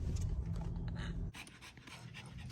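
Dogs pant steadily and close by at a hotel arrival on a road trip, a continuous breathy rasp that drops lower halfway through, with no talking.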